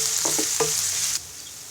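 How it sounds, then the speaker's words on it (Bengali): Chopped onions sizzling in soybean oil in a wok, a bright steady hiss with a few quick stirring knocks, the sizzle dropping in loudness near the end. "পেঁয়াজটাকে ব্রাউন কালার করে ভেজে নিব।"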